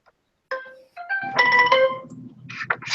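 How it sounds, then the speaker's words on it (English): A cell phone ringtone chimes in bright melodic bursts, starting after a brief silence and swelling louder, with a few separate tones near the end. "Oh, that was my cell phone."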